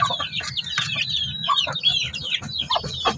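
A group of 15-day-old chicks peeps nearby, their high, rapid chirps overlapping in a continuous busy chorus.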